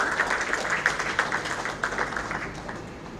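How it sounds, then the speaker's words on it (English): Audience applause at a royal opening ceremony: a dense, moderate patter of many hands clapping that holds steady and then slowly fades over a few seconds, heard without speech. "So can I please give them a round of applause."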